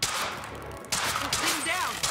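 Gunfire in Quantum Break, sharp loud shots crackling in quick bursts near the listener, mixed with commotion and voices in a tense armed standoff.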